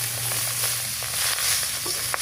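Water spinach (kangkung) hitting a hot pan for a kangkung devilled stir-fry, giving a steady, close sizzle with a bright hiss that runs the whole time, with no talking.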